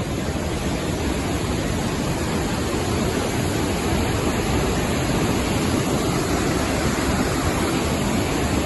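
A snow melt waterfall near Duncan on Vancouver Island pours down through a gorge under a highway, making a steady, dense roar of rushing water that stays loud and unbroken throughout.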